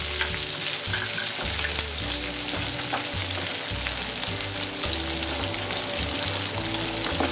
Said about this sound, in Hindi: हाई फ्लेम में 2 मिनट फ्राई कर लूँगी।